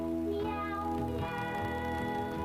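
Sung meows from a cat food jingle, a voice imitating a cat in a melodic, harmonized line of repeated meow notes, loud and continuous over backing music.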